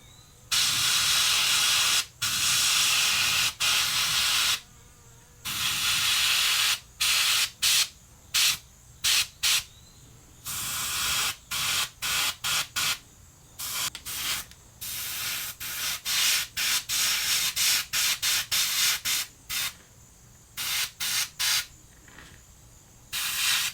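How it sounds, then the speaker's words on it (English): Airbrush spraying paint onto the back of a small shiner-pattern fishing lure: close, steady hissing bursts in many short on-off pulses of varied length, with no talking. "I think I'm gonna go ahead and spray the back of it as well."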